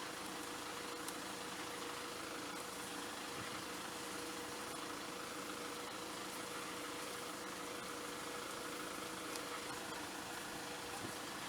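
A sickle mower engine runs in a steady, faint, droning idle with an even mechanical hum and no change in pace throughout.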